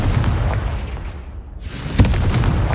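The Confringo explosive spell cast in the Hogwarts Legacy video game, heard as a sharp booming burst followed by a second blast about half a second later, close and loud over a rumbling background.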